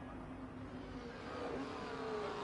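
A race car engine in a racing video game as it enters the pit on the Jeddah track, a steady muffled whir that rises slightly toward the end.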